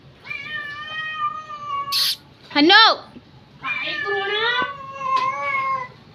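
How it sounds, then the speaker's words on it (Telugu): A cat perched up high meows loudly and repeatedly in long, wavering cries with short gaps between them. A person briefly calls out in between the meows. "ఇంత పైన కూర్చొని మ్యావ్ మ్యావ్ అంటుండు"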